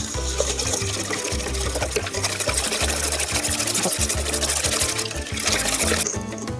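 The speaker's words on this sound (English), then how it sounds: "Now we're gonna be adding the 2 eggs, the salt, and the melted butter. Just whisk all together." Eggs, salt and melted butter being whisked together for cinnamon roll dough, a steady rhythmic clatter of whisk against bowl running throughout at close range, with no talking.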